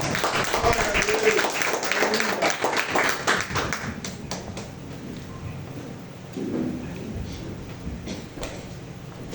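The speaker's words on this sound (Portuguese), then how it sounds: "Vamos receber o pastor com as palmas." A church congregation claps to welcome the pastor, a dense burst of applause that fills the first few seconds and then thins out, with voices audible underneath.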